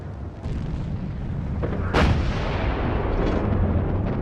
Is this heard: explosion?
yes